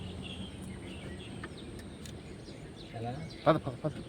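A peacock calls in a forest, giving a couple of short, loud, ringing cries near the end over steady background noise and quiet voices talking.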